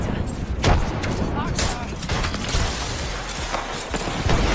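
Gunfire in the Apex Legends video game: rapid bursts of shots and impacts crackle through a dense, busy game mix, continuous and fairly loud, with players talking over it.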